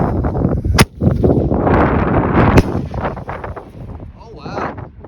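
A 1.2-inch Top Gun firework goes off outdoors with two sharp, loud blasts a couple of seconds apart amid steady crackling and rumbling bursts that fade toward the end.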